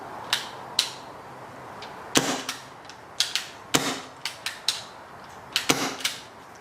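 Sharp, snappy clicks from a suppressed airsoft gun fire one after another at irregular intervals, close by, each a brief crisp pop with faint mechanical rattles between.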